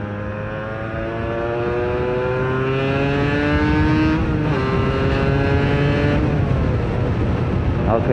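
A Yamaha RD 125 LC two-stroke motorcycle engine buzzes close and loud while riding, its pitch climbing steadily through a gear, dipping briefly at a shift, then rising again, with wind rush underneath.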